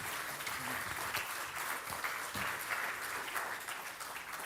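Steady audience applause at the Jaipur Literature Festival in New York honours the festival speakers, a continuous wash of clapping from a crowd heard at moderate distance.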